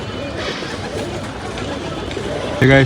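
Pigeons coo softly nearby, a female pigeon with another male approaching her, as people talk over them, ending with a louder, close voice.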